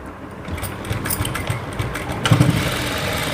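A sewing machine stitches a blouse with a fast, rhythmic mechanical whirr and clatter, close and steady, rising slightly in intensity toward the end.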